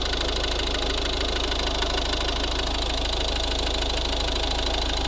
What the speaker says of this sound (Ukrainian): Дуже-дуже хороша робота двигуна.